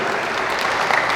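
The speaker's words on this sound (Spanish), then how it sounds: "Démosle un fuerte aplauso a la palabra de Dios." A church congregation breaks into strong applause during a Spanish-language sermon, a steady burst of close, full clapping with no talk over it.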